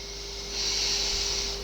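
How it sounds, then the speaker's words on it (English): A person takes a long sniff at a glass of home-brewed saison or coconut milk porter, one close breathy inhalation swelling for about a second against steady background hiss. "Let's give that a sniff."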